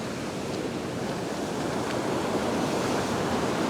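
Ocean waves break and wash continuously on a fishing beach, a steady broad roar of surf with a little wind, no voices.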